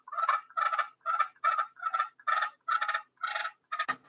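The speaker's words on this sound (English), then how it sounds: "You got your purr. Let's do your purr." A turkey call rolls out a string of about nine soft, rapid purring bursts in a steady rhythm, close and clear with no talking.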